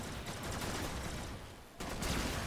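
Rapid continuous gunfire from the Detron weapon in the video game Warframe fills the span, a dense, loud wash of blasts that dips for a moment before resuming.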